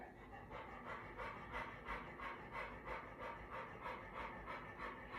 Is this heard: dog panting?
yes